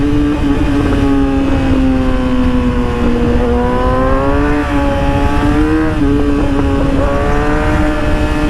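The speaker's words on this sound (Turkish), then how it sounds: "Şimdi arkadaşlar motorun sesi evet böyle çok güzel çıkıyor" A Yamaha R6 motorcycle engine with its muffler removed runs steadily up close, its loud droning hum rising slightly in pitch as it revs, with no voices.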